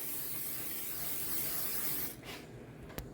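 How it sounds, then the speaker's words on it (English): A steady cooking spray hisses for about two seconds onto 8-inch round cake pans, then stops, followed by a brief faint rustle and a small click. "Spray your 8-inch round cake pans down good."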